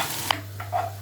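Onions frying in a pan are stirred: a quick scrape and a couple of soft clinks over a low steady hum, moderately close and brief.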